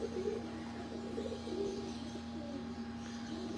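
Breeder pigeons coo softly and steadily, a low murmuring drone with repeated coos throughout, fairly close and unbroken.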